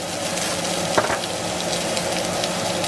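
Filet mignon seasoned with kosher salt and black pepper sears in a cast iron skillet, a loud, steady, close sizzle with one brief clatter partway through and no talking.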